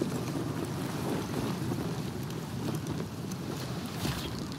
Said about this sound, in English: Let's roll up the sail.